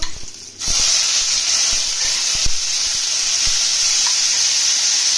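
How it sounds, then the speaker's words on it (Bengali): Eggplant dropped into hot oil with crushed garlic and dried chili bursts into a loud, sudden hissing sizzle that stays strong and even throughout, with a few clinks of stirring underneath. "তেল গরম হয়ে গেছে, রসুন আর শুকনো লঙ্কা ফোড়নে দিয়ে দেবো।"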